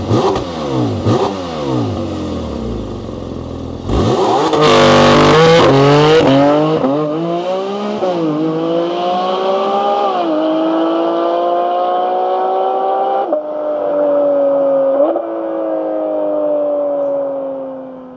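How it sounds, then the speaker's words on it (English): A Porsche 718 Cayman GT4 RS flat-six with forged internals fires up with a loud bark and climbs into repeated high-pitched revs, rising and falling before settling to a steady drone, close and alone. "let's fire it up and hear this car sing"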